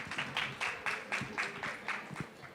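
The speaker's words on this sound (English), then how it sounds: "Let's give her a round of applause" Audience applause for a speaker at a conference session, clapping in a steady rhythmic pattern of repeated bursts, moderately loud and fairly near, with no talk over it.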